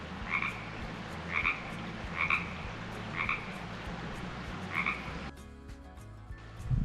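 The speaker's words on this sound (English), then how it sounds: "I'm gonna find that frog." A frog croaks in a canyon along a rim trail in Baja California, Mexico, giving five evenly spaced calls about a second apart. The calls are moderately close and stand out clearly over a steady low background hum.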